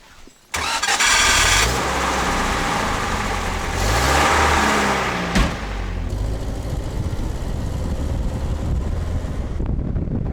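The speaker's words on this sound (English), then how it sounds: "Car trouble." A car engine cranks and catches at the start, then runs loud and steady with wind buffeting the microphone, a dip and surge in revs midway, on a troubled car on a road trip through Central Asia.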